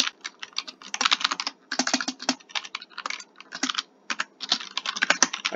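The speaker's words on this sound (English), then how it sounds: "I cannot type, okay." Fast, uneven bursts of computer keyboard typing with clattering keystrokes in quick clusters and short pauses, close and clear with no voices, while someone works on a Minecraft server.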